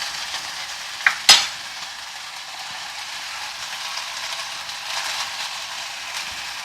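Blackened teriyaki chicken sizzles in a hot pan with a bright, steady crackle, marked early by a couple of sharp spits or clinks, with no voices.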